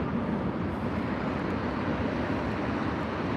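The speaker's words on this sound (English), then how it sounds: "Kuwait 777. Incredible aircraft, incredible power." A Kuwait Airways Boeing 777 climbing out of Heathrow, its engines a steady, powerful broadband roar that fills the whole stretch without letting up, loud and close.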